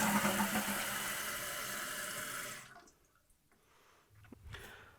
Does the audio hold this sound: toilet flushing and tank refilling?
yes